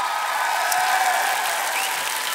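A theater audience applauds after a singing performance, sustained dense clapping filling the hall at an even level throughout.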